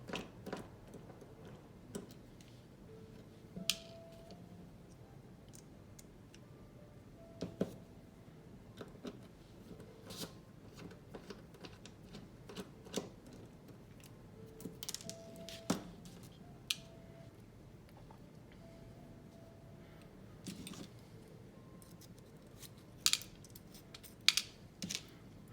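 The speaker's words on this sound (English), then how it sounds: "And now I'm going to completely unscrew the other spacer sex bolts." Screws being backed out of the spacer bolts on a HOM Chimera v2 knife with a screwdriver, heard as sparse, quiet clicks and small metallic ticks scattered irregularly over a near-silent background, with no talking.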